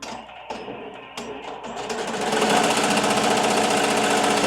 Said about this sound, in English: While that hat is getting embroidered